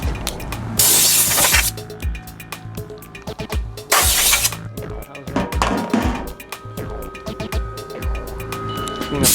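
Compressed air from an air compressor blasts across a walk-behind Turf Beast lawn mower in sharp, hissing bursts, two long strong gusts among shorter puffs, amid clattering and rattling close by.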